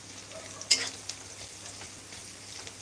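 Ginger or garlic frying in a pan gives a quiet, steady sizzle, broken near the start by one brief clink of a utensil and a few soft scrapes, heard faintly from close by.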